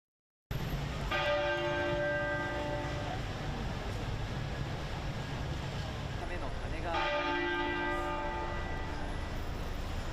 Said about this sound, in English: All church bells were ordered to toll for an hour straight to signify the death of the monarch.